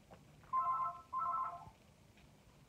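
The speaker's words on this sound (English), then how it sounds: "I'm not answering that phone." A telephone rings indoors in two electronic trilling bursts, each about half a second long, fairly quiet against a low background hum.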